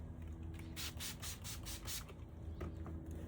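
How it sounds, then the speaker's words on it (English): A headlight lens is wet-sanded by hand with high-grit sanding discs, giving a series of rapid back-and-forth rubbing strokes, close and soft, over a low steady background hum. "you cannot oversand with these higher discs"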